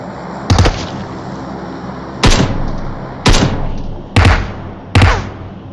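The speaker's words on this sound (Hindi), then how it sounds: "अबे बहुत ज्यादा फायर कर रहे हो यार" Gunfire in the mobile battle-royale game PUBG Mobile: five loud, sharp bursts of shots spaced about a second apart, each a brief cracking blast over a low background rumble.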